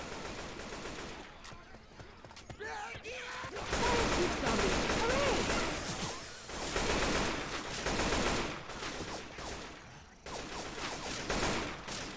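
Gunfire in Left 4 Dead 2 on the Dead Center campaign, with dense bursts of automatic shots and fusillades in several loud clusters separated by brief lulls, with voices in the game sounding between and under the shooting.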